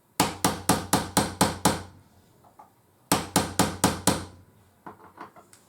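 Hammer blows drifting a rifle peep sight into its dovetail from the breech side: two tight bursts of about seven sharp metallic taps each, close and loud, followed by a few softer taps.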